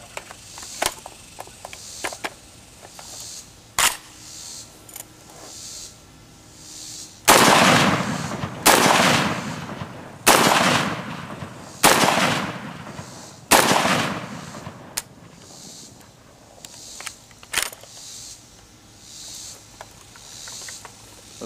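A PTR-91 rifle fires outdoors in a series of loud, sharp gunshots, about six close together with some quieter shots and clicks before them.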